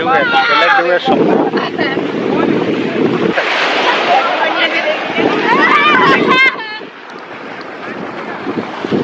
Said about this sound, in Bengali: ঢেউয়ের শব্দ